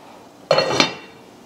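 A metal lid drops back onto a pot of simmering beans with a single loud clattering clank and a brief ring that fades quickly, heard close and alone.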